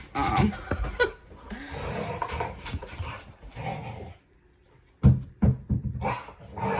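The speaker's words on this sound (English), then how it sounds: "you can hear my dogs in the background having a little" Dogs scuffle and play nearby, with short barks, growls and panting bursts, a brief quiet gap, then a few sharp yips near the end.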